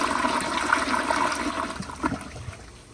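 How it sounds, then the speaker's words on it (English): A 1994 elongated Kohler Wellworth Lite toilet flushes: a close, loud rush of swirling water that gradually thins into draining gurgles and trickles. "So here's the flush."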